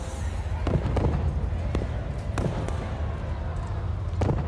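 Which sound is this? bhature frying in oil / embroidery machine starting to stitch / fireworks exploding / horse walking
fireworks exploding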